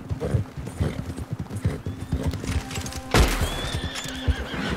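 A horse whinnies in Red Dead Redemption 2, a sharp loud neigh with clip-clopping hooves around it and low game ambience, near and prominent.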